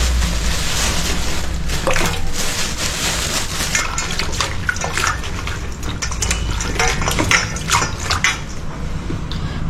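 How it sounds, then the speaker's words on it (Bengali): Vegetables are washed by hand in a basin of water, with continuous splashing and sloshing close by. Light clinks of a vessel sound throughout, and no one speaks. "এবার জলের মধ্যে আমি যা সবজিগুলো ধুয়ে নেবো"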